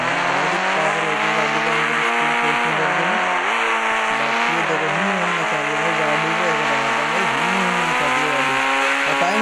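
A car revs and drives continuously in Indian Bikes Driving 3D, its loud engine tone stepping up and down through gears with occasional tire squeal, droning throughout without spoken words.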